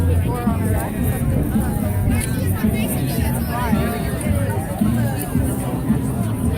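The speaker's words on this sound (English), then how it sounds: "I suck at crowd estimating, but there's probably a couple of thousand here." A crowd of a couple thousand at a March For Our Lives rally in Des Moines fills the space with a steady, dense murmur of chatter and voices, with no single sound standing out.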